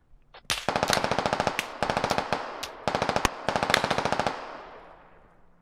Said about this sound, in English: I got him shooting at me.